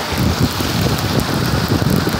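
Heavy rain pours outdoors during a thunderstorm with flooding, a steady dense hiss with wind buffeting the microphone throughout and no voices.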